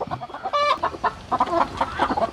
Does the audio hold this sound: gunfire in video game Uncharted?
no